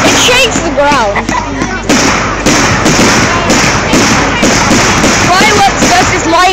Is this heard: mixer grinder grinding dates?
no